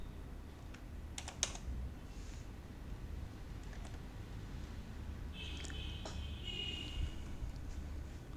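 Quiet clicking of computer keyboard keys while Python commands are typed at a command prompt, with short irregular bursts of keystrokes separated by pauses and no talking.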